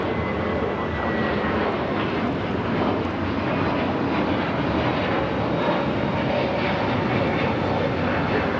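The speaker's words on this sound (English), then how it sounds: "taking off to JFK JetBlue 2074 on the A321neo" A JetBlue Airbus A321neo takes off from LAX on a summer night, its engine roar loud and steady throughout with a broad rushing wash and no talk.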